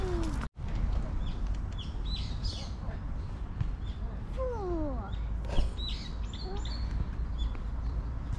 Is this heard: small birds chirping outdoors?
yes